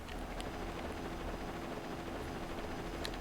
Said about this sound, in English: Darn you, Fafnir, and your fancy helicopter.